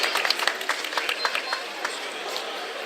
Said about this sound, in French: On peut l'applaudir, bien sûr.